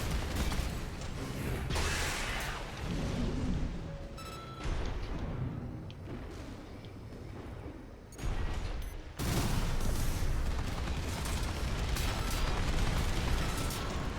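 Gunfire and explosive bursts from mech combat in the video game Armored Core VI, dense and sustained with clattering mechanical noise, briefly dropping to near quiet before resuming loud volleys.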